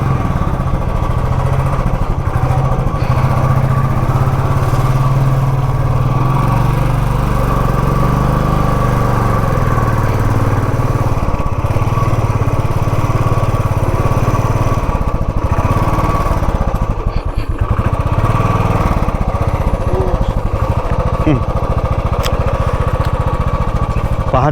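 A motorcycle engine runs steadily at a homestay on a hill road between Dawaipani and the Dooars, a loud continuous rumble that stays close throughout with no talk over it.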